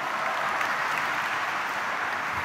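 Married members of the audience at an evening Advent recollection clap together, a dense and steady burst of applause that fills the whole moment without letting up.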